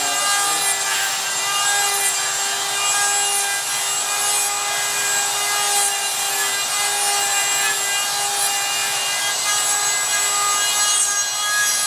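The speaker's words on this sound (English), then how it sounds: "I'm just nibbling away at it, because the router likes to run away like a madman when they dig in." A wood router nibbling along the perimeter of a wood panel while shaping tongue-and-groove edges, a steady near, loud high-pitched whine with grinding cutting noise throughout and no talk.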